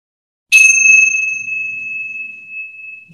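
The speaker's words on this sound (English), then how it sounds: "Second, third bell," A single clear bell strike during a yoga session rings out in a quiet room, loud and bright at first, with a long pure tone that slowly fades over several seconds.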